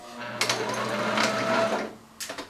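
A sewing machine backstitches wide leg pants, running steadily at close range for about two seconds, then stopping, then giving a few short stitches.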